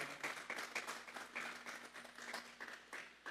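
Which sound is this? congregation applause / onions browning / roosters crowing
congregation applause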